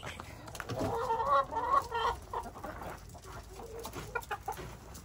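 Chickens cluck and squawk up close while their wings are clipped, with a burst of agitated calls early on followed by softer scattered clucks and light handling noises.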